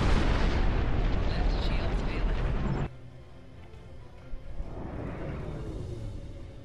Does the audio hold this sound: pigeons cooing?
no